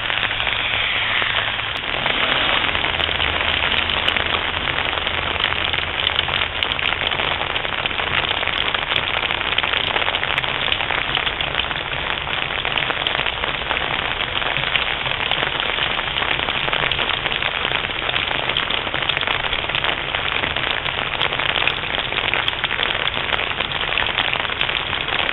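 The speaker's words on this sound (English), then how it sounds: "Raining outside now." Heavy rain pours from an overflowing clogged gutter, a dense, continuous hiss and patter that is loud and close, steady throughout with no talking.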